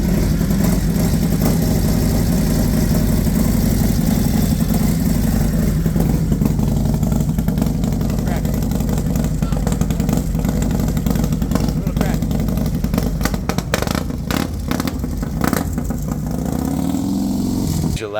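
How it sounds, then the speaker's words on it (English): A Honda CR500R two-stroke motorcycle engine idling steadily with a low, rough rumble close by while people talk over it, blipping briefly near the end. "That's a badass two-stroke."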